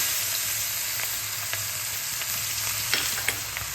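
Chopped onion frying in a little oil with black cumin, dried chili and cardamom for a Bengali rohu fish curry, giving a steady close hiss and sizzle with occasional small pops.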